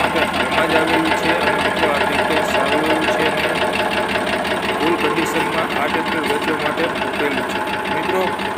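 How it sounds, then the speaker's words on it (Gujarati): An Eicher tractor offered for sale idles steadily with a dense, pulsing mechanical chug that stays even throughout, while a person talks over it. "જોઈ શકો છો આઈસરનું છે ટ્રેક્ટર જે વેચવા માટે હમણાં જ આવેલું છે"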